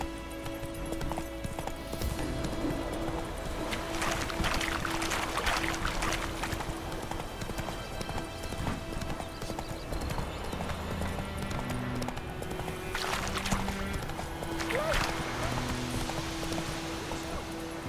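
Roach, the horse in The Witcher 3, clip-clops steadily on her hooves throughout, a continuous walking-to-trotting rhythm over layered game ambience and music.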